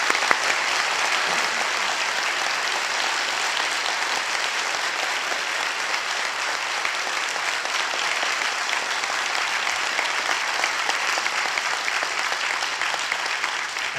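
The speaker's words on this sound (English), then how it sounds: "We can applaud Mr. Ham's presentation." A debate audience applauds after a presentation: sustained, dense clapping from a large crowd, steady and even throughout with no voices on top.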